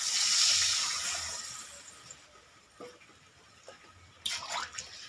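Water is poured into a cooking pot of singi fish curry. A loud rushing splash comes first and fades, then a few small clinks follow, and a final short splash comes at the end.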